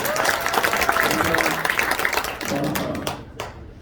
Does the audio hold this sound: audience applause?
yes